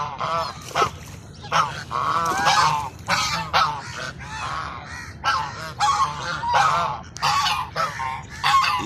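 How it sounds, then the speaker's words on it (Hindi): Ducks honking repeatedly near water in loud, irregular bursts, several birds calling over one another close by. "ये देखिए आपने बतखें।"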